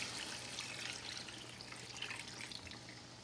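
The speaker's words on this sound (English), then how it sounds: "Now add 2 cups of water and let it cook completely" Water pours into a pan of fried chicken thigh curry, a steady close splashing and hissing rush that holds evenly throughout with no voices.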